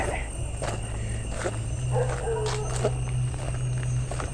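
Soft footsteps move deeper into the woods at night, irregular and close, over a constant hum and chirping insects, with faint voices in the background.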